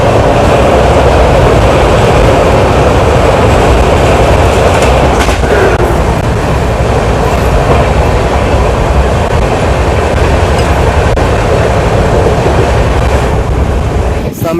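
Chennai superfast sleeper express rolling toward Kanhangad station, heard from inside a carriage as a steady loud rumble with rhythmic clickety-clack of wheels on rail joints throughout.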